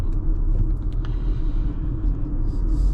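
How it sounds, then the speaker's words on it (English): Inside a 2025 Mazda CX-5 GS SUV on winter tires, a constant low tire and road rumble fills the cabin at speed, steady and unbroken, with no talk. "road noise coming, but I think it's because of these winter tires."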